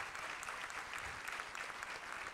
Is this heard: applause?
yes